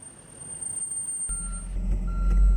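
A fire pumping apparatus reverses into a tight training alley, its backup alarm sounding as a steady high beep over a rising low engine rumble that grows louder toward the end.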